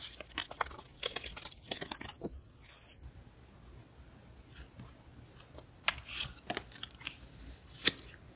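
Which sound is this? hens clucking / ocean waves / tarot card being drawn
tarot card being drawn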